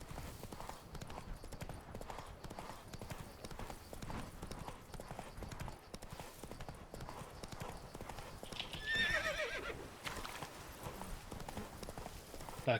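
Hooves of Roach, the horse in Witcher 3, clip-clop in a fast steady gallop under game sounds, with a shrill neigh partway through and a sharp thump at the end.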